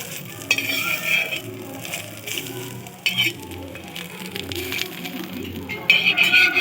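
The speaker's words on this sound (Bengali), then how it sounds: "আমি আরেকটা পাশ উল্টিয়ে দেব আবারও আরেকটু তেল দিয়ে দেব" Egg-dipped bread toast frying in oil in a pan, with a steady close sizzle broken by spatula scrapes and clatter, growing louder near the end.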